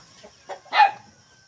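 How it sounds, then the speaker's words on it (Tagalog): Heritage chickens cluck at feeding time, a few short nearby clucks with one louder call in the middle, no talk. "Ngayon, pagkain tayo sa mga alaga nating manok."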